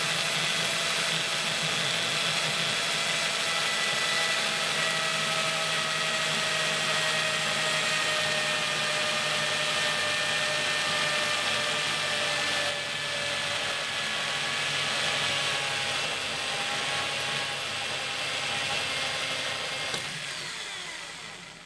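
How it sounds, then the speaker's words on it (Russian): A drill bores slowly without pressure through two 4 mm sheets of window glass with water on the surface, a steady continuous whine holding nearly constant throughout before easing off at the end. "без нажима, просто сверлим, просверливаем"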